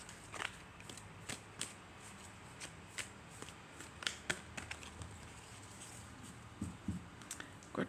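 Tarot cards being shuffled close up, with quick papery riffles and soft slaps arriving in irregular bursts over a quiet background, with no voices.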